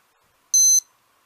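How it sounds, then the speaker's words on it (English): A single short, high electronic beep from an AcuRite weather radio signaling detected lightning, loud and clean against silence. "that's the sound it makes whenever there's a lightning detected"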